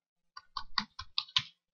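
Six or so crisp keystrokes tap out a password on a computer keyboard, spaced unevenly and close by in an otherwise quiet room.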